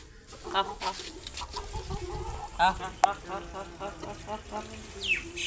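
A rooster clucks in short repeated bursts, fairly close, with some faint background voices and noise.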